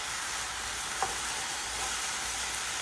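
Mushrooms fry and get stirred in a pan, giving a steady, even sizzle with a single soft scrape of the utensil partway through.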